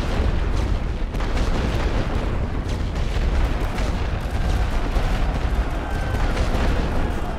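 Artillery fire in the World War One strategy game The Great War: Western Front, a dense, continuous roar of booming bursts and deep rumble that fills the whole stretch at a steady, loud level.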